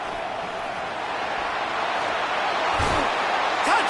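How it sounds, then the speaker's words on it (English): A football stadium crowd at a Rutgers game roars steadily behind the defense in the red zone late in the fourth quarter, a dense continuous wash of cheering with a brief thud near the end. "The crowd getting behind this defense as they try to get a stop in the red zone."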